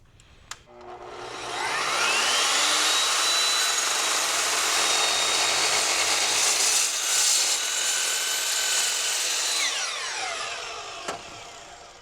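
An Evolution S14MCS metal cutting saw spins up with a sharp click, then grinds steadily through metal for around eight seconds, loud and close, before winding down with a falling whine and a final clack.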